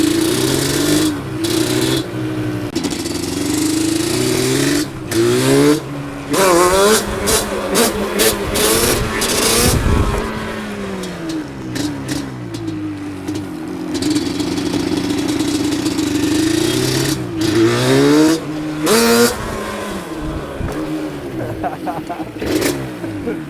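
A Yamaha Banshee ATV engine revs repeatedly in sharp rising bursts between rough idling, loud and close, with people talking at times over it.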